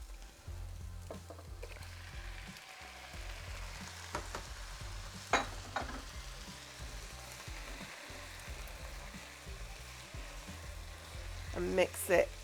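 Octopus frying in a pan with onions and garlic for an Azorean octopus stew, a steady crackling sizzle throughout with occasional stirring clatters and utensil knocks, louder bursts near the end.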